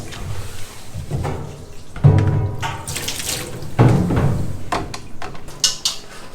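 Tap water runs in bursts over hand-washed items in a sink, splashing and trickling close by, with intermittent stronger gushes and handling sounds between them.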